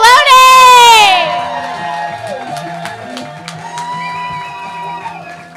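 A live comedy club audience at the Comedy Store cheers and whoops loudly, a voice shouting over it at first, then the noise settles into scattered claps and chatter.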